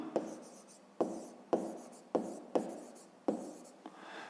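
Pen strokes scratch across paper as an asterisk is drawn, in six short sharp bursts roughly half a second apart, each fading into a soft rub, close and quiet with no talking.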